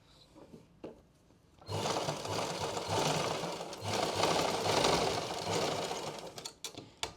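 A sewing machine stitches elastic onto pants, starting after a few soft handling clicks into a loud, steady, close whirring run lasting several seconds before stopping.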